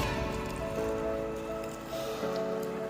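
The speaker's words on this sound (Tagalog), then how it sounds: "Maulan." Rain falling steadily on surfaces under an overcast sky, a continuous soft patter over a low hum with faint tonal background noise, and no voices.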